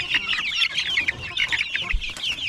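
Chickens and chicks on a Philippine farm cluck and chirp continuously in a busy, close flock, with overlapping high peeps and soft clucks throughout and no talking.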